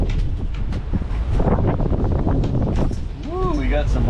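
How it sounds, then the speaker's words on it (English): Strong wind buffets a small boat in loud, continuous gusts that roar against the microphone, with voices calling out over the rushing noise. "Oh shit, the wind has caught us."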